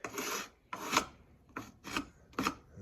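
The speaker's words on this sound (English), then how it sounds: "My flat bar also has an angled end that's really great for scraping and removing" A flat bar with an angled end scrapes debris off the base of a wooden column in five separate rasping strokes, close and fairly loud, with brief pauses between them.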